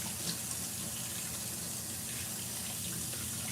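Warm water runs steadily from a tap into a sink, a constant broadband rush with no talk, heard while preparing homemade wine.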